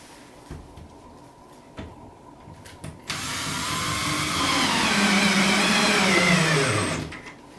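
A power tool drives a bolt into a TV wall mount, a few brief clicks and knocks followed by a loud, rising whine of several seconds that cuts off abruptly, with no speech.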